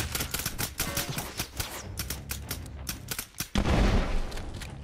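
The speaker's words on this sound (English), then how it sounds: "I'm throwing a grenade." A thrown grenade detonates with a loud, heavy boom after rapid bursts of close gunfire in an extraction shooter game.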